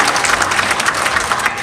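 An audience at a Menstrual Hygiene Day celebration at Busia Polytechnic claps, a dense, loud burst of applause filling the whole short moment.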